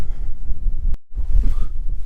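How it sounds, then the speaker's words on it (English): Strong gusty wind roars and buffets across an exposed mountain summit, loud and low, with a brief full cutout near the middle before the rumbling resumes. "Very, very windy"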